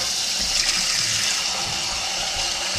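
Tap water runs steadily over salt cod in a sink, a constant broadband rush filling the whole stretch with no pauses or voices.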